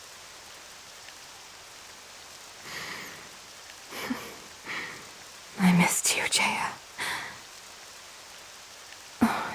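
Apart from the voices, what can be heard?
rain falling, from a video game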